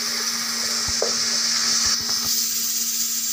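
Masala frying in a pan for a mutton curry, a loud steady sizzle with a few soft stirring knocks, close and continuous, no talking.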